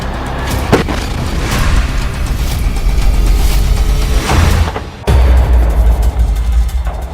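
Rocket strikes by Hamas fighters hitting Israeli tanks in Gaza, heavy booming blasts and rumbling impacts, loud and close, with a sharp cut midway and dense low-end roar.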